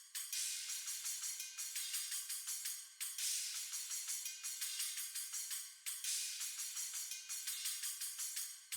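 Live drum kit sounds layered with closed hi-hats and open hats in a beat, a steady bright shimmering pattern that swells and cuts off in repeating bars, with no low end and no talking.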